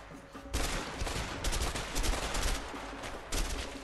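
Sustained gunfire from a shootout in the video game A Way Out, dense rapid bursts layered continuously and loud throughout, with a sharp swell near the start and another late burst.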